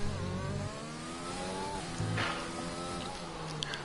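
Racing car engine held at full throttle in a racing video game at a Spain round, a steady high-pitched drone with rising harmonics through a gear shift, loud and continuous.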